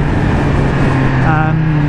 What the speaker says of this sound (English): You can hear that awesome induction sound